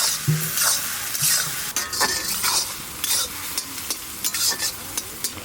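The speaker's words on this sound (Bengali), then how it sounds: "লোহার করাইতে রান্না করছি আমরা একটু লবণ দিয়ে দেবো তাড়াতাড়ি তাড়াতাড়ি পেঁয়াজটা নরম হয়ে যাবে" Onions frying in an iron wok, salted to soften, crackle with a steady loud sizzle while a utensil scrapes and stirs them in repeated strokes.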